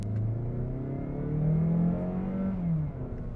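A 2025 Mazda CX-30 with a 2.0-litre naturally aspirated 121 kW petrol engine revs up under hard acceleration, the engine note climbing, easing, then climbing again, heard from inside the cabin.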